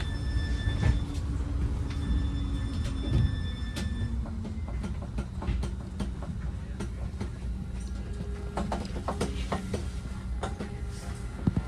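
A southbound local Caltrain pulls out of Sunnyvale station with low rumbling, rhythmic clicks and occasional metallic squeals from the wheels, heard from inside at moderate volume.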